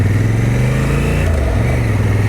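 Honda Africa Twin motorcycle's big, torquey engine running loud and close, a steady deep throbbing rumble with a slight dip in pitch partway through.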